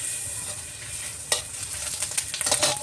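Butter sizzles in a pan as it melts, a steady hiss with a sharper crackle about midway and growing spitting and stirring scrapes toward the end, with no voices.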